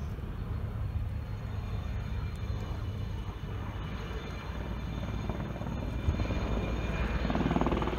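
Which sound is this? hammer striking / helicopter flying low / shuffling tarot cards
helicopter flying low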